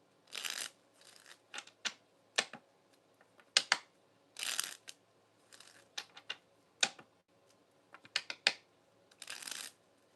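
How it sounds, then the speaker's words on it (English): A deck of cards is shuffled by hand in bursts of crisp riffling and flicking, with short pauses between, close and fairly quiet with no talking. "Cards ain't wanting to shuffle right."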